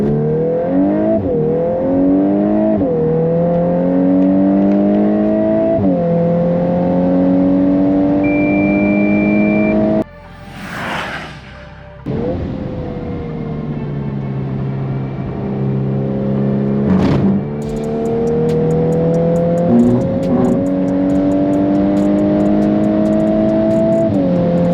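MK8 Golf R lapping a race circuit: a loud engine climbing through the revs in repeated surges with gear changes, a brief dip in the middle as power eases off, then strong pulls resume, close and steady.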